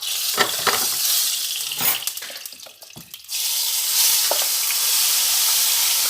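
Hot oil sizzles loudly and close while a Congolese salted fish (makayabu) sauce cooks. A broad hiss runs throughout, broken by brief clatters and a short dip, then settles back to a steady, even crackle.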